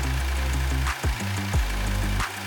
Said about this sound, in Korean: 가솔린 엔진입니다.